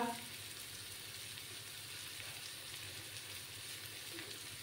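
Onions fry in a pan with a soft, steady sizzle that stays faint and even throughout, with a quiet voice speaking over it.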